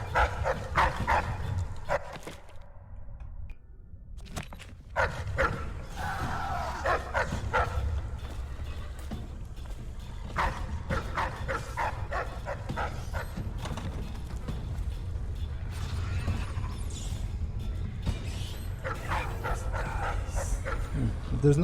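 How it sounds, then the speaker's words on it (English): Dogs barking in Dishonored, a steady scatter of barks and yips over a dense background rumble, with no voices over them. "Oh yes, they will bark at me."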